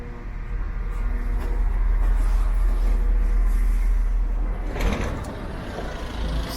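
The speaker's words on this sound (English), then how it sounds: "This is a Wales transport train anyway" A Transport for Wales passenger train rumbles loudly and steadily nearby in Chester, with a mechanical hiss and clunk near the end and no voices.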